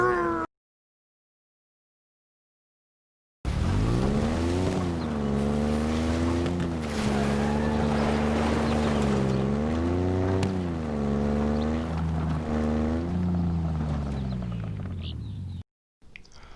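War Dog vehicle from the Halo Infinite video game trailer starting up: after a brief silence, a loud engine roar rises and revs with wavering, sweeping pitch for about twelve seconds before cutting out abruptly.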